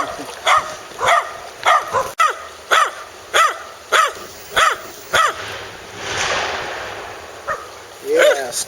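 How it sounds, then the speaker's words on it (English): Dogs bark outdoors near a creek, a run of roughly ten loud, evenly spaced barks followed by a pause with rustling, then a final yelping bark. "now I'm going to get attacked by dogs"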